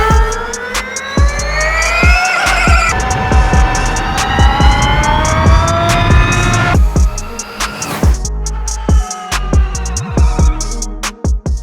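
Porsche GT4 e-Performance fully electric race car drives with a loud, high electric whine that climbs and falls in pitch as it accelerates and slows, with sharp mechanical clicks and thumps scattered throughout.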